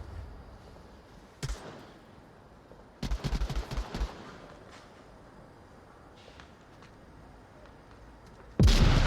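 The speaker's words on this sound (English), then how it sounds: "Oh, very well thrown frag grenade. It does blow up that C4." In the VR shooter Onward, a thrown frag grenade explodes and sets off C4, amid scattered gunfire bursts and a loud blast at the end.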